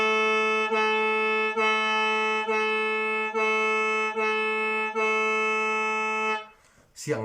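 A khaen mouth organ sounds one sustained reedy note, La, pulsed in a steady series of breaths, then stops with a brief rustle.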